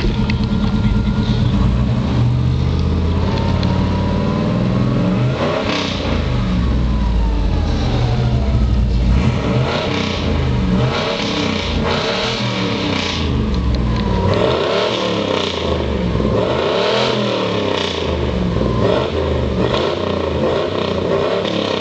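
A truck engine idles loudly and revs repeatedly, rising and falling in pitch over a steady rumbling base, close and sustained with no talk.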